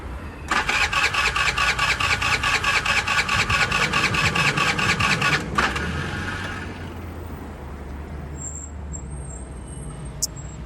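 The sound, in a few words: motorbike engine being started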